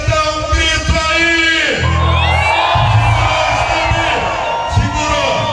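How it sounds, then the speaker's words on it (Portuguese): A large crowd at a religious gathering for Nossa Senhora Aparecida shouts and cheers together on cue, a loud sustained roar of voices with whoops rising over it. "Eu quero que todo mundo, quem tem fé em Nossa Senhora Aparecida, dá um grito aí"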